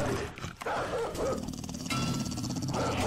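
A dog barks and growls in the zombie survival game 7 Days to Die with the Project Z mod, a few loud close yelps and rough growling over game background noise, with no voice over it.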